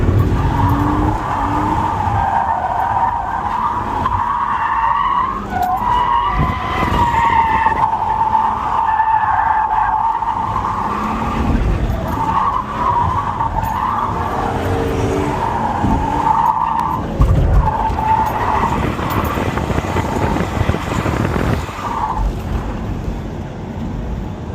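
BMW E90 328i sedan drifting at a track drift day, engine revving hard under long, wavering tire squeals that rise and fall across several slides, loud and close throughout.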